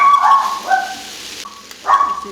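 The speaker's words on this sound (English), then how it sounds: "He's going to bark." A pet dog barks and yips in a kitchen, two short sharp bursts close by separated by a brief pause.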